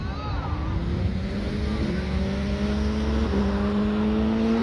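An Iberia airliner climbing away after takeoff at Orly airport, a loud continuous engine roar with a tone that gradually rises in pitch, heard close by with no talking.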